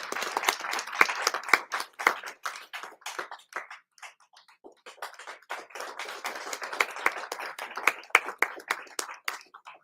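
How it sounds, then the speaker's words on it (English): A modest audience at a spiritual center session gives a round of applause, crisp close claps sounding steadily for about ten seconds, dipping briefly midway before picking up again. "A big round of applause, everyone, please."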